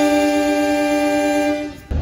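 A Logawa passenger train pulls out of Sumpyo station, its horn sounding a loud, steady multi-tone blast that holds for nearly two seconds before cutting off, with low rumble underneath.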